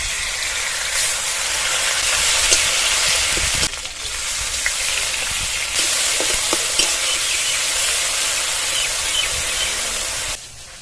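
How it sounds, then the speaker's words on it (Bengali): A ground paste of cumin and dried chili sizzling loudly in hot mustard oil over fried onion, a close, continuous hiss with stirring scrapes and brief pauses, no talk. "এবার এর মধ্যে জিরে আর শুকনো লঙ্কা বাটা দিয়ে দেবো।"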